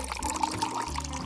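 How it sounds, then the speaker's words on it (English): Water is poured over a fake phone resting on a block of ice, giving a brief, steady splashing pour with a bubbling liquid gurgle, close and moderately loud for just over a second. "pour another layer of water on top"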